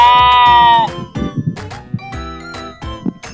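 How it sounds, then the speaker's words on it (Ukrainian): A sheep gives a loud, drawn-out bleat, then light music with soft percussion and short tones carries on afterward. "Вівця бекає."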